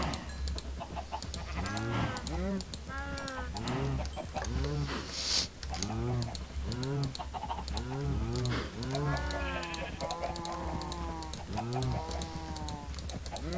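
Baby cows in a video game moo repeatedly in short, rising-and-falling calls that overlap in a busy pen, mixed with clucking chickens and soft background hum.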